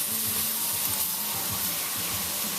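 Tomatoes and mushrooms searing in a hot pan, a continuous close hiss of frying with faint scraping and bubbling underneath, steady in loudness throughout.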